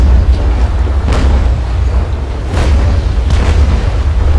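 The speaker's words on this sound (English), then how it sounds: "I love the sounds of the cannons in this thing." Heavy cannon fire from ships in the naval combat game Naval Action, loud booming blasts rolling over a dense rumbling background, with a few distinct thuds standing out.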